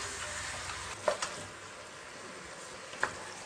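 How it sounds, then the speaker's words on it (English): Minced meat browning in a pan for bolognese sauce gives a faint, steady sizzle, with a couple of brief stirring scrapes standing out near the start and again toward the end. "The moment the meat goes in, you just want to cook it until it's lost the raw colour"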